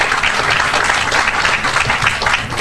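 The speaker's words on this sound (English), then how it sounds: "Nice round of applause." A crowd at a riverfront development unveiling event claps in a short, dense burst of applause, loud and steady throughout.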